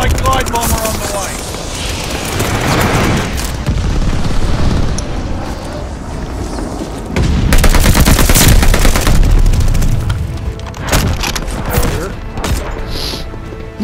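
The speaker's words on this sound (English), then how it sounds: "And my glide bomber on the way!" Repeated explosions and bursts of gunfire from a glide bomber airstrike in Call of Duty, loud and dense, with a heavier barrage midway and game voice lines over the top.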